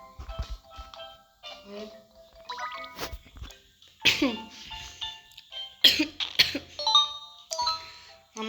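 Several sharp coughs break out at irregular intervals, mixed with short voiced sounds and faint tonal notes in a quiet room.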